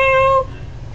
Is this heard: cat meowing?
yes